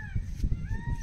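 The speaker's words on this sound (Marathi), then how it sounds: "टोकापासून तो मोर ओरडता," A peafowl calls from the forest across a large dam reservoir area, faint and distant with drawn-out tonal cries echoing over a low rumbling background.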